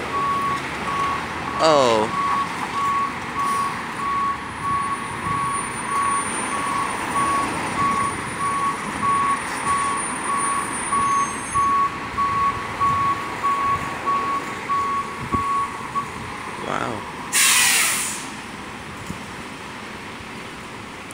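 MTA tow truck towing an Orion VII NG bus, steady evenly spaced reversing beeps over idling engine noise on the street, with a few brief air hisses and a voice speaking near the camera.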